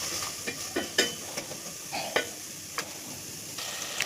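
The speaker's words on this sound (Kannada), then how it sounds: "ಆಮೇಲೆ ಸ್ವಲ್ಪ ಗ್ರೀನ್ ಚಿಲ್ಲಿ, ಆನಿಯನ್, ಅರಿಶಿನ, ಉಪ್ಪು ಹಾಕಿ ಚೆನ್ನಾಗಿ ಮಿಕ್ಸ್ ಮಾಡ್ಕೊಳ್ಳಿ." Green chili, onion, turmeric and salt stirred into urad dal frying with cumin in a pan, giving a close, continuous sizzle broken by repeated sharp scrapes and clinks at an uneven pace, with no voices.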